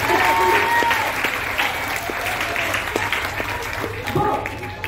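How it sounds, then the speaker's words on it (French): Audience applause at a show in a volcano theme park, loud and sustained clapping with voices mixed in underneath. "On peut applaudir, monsieur"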